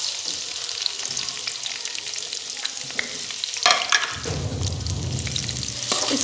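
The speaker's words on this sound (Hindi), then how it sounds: "फिर इसमें ये 2 प्याज हम बारीक कटा हुआ ऐड कर लेंगे और 1 हरी मिर्च।" Two finely chopped onions and a green chili hit hot oil for aloo bhujia, giving a steady crackling sizzle, with a brief stirring clatter and a louder, fuller fry near the end; no one talks.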